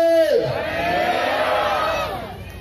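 A church congregation at a gathering in Nagarjuna Sagar lets out a loud, sustained collective shout, a single swelling roar of many voices that rises and fades over about two seconds.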